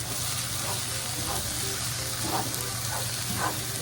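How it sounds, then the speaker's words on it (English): Onions frying in a pan toward caramelization, a steady close sizzle and hiss with occasional soft stirring clicks, heard alone without talk. "we want to do some onions, get them nice and brown and caramelized"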